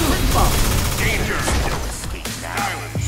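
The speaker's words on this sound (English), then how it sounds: "Proton cannon!" Iron Man's proton cannon fires in the fighting game Marvel vs Capcom Infinite as a loud, sustained crackling blast with rapid bursts and a deep rumble, followed by sharp impacts amid game effects.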